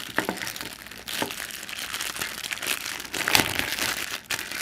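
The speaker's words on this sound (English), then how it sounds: "So let's take it out of its plastic." Plastic packaging crinkles and crackles in irregular bursts close up as an ATEM Pocket Controller is unwrapped, with sharper crunches scattered through the rustling and no talking.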